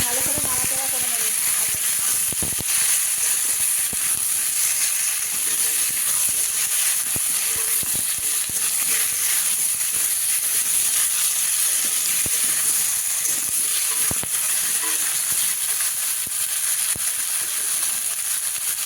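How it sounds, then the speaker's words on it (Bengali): Chopped pumpkin and potato sizzle in a pan, a loud continuous hiss of frying with occasional knocks of stirring throughout. "এবার কেটে রাখা মিষ্টি কুমড়ো আর একটা আলু কাটা আছে মধ্যে দিয়ে দেবো। ভালো করে নাড়াচাড়া করে নেব।"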